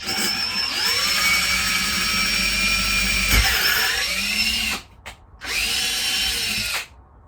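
A power drill whines steadily while tapping a thread into a tube to take a 5mm bolt, the motor pitch dipping under load, then cutting out briefly before a second close, loud burst and a stop.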